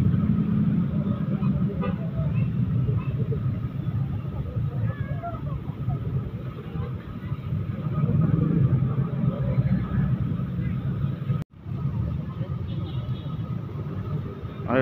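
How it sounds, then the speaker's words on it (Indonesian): Busy town-square traffic around Magelang's alun-alun, with cars and motorbikes passing in a steady, dense roar that stays loud throughout, briefly cut off near the end. "Lalu lintasnya cukup padat, ramai."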